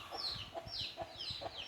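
Chickens cluck in a repeated, steady rhythm inside a farm shed on a red-soil hillside plot also housing sheep, several birds calling close by against a constant barnyard background.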